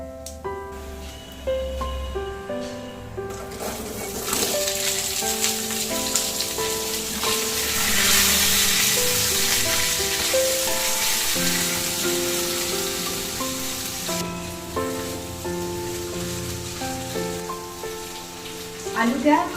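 Potatoes fry in hot oil with a steady, continuous sizzle that swells and holds, while bright music plays over it.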